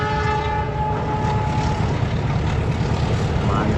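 A loud, sustained horn blares from a long Lodaya passenger train crossing the Citis bridge at Nagreg, steady and close over the deep rumble of the passing cars.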